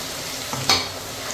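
Garlic sizzles gently in a hot pan while corn is being cooked, with a soft steady frying hiss and a brief stir clatter partway through. The sound is quiet and close, with no talk.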